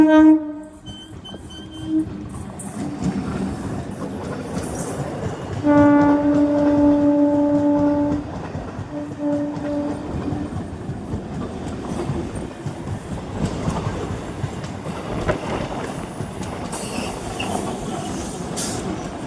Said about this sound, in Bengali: কখন থেকে ট্রেনটা আসছে, তো স্লো গতিতেই আসছিল